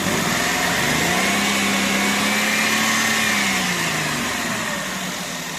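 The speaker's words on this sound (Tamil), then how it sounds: "என்ஜின் சவுண்டு கேளுங்க, ரொம்ப ஸ்மூத்தாக தான் இருக்கும் இந்த வண்டியில் சவுண்டு." A Maruti Zen Estilo car engine idles close up, a smooth steady hum with a faint whine that holds evenly and eases off slightly toward the end, with no voices.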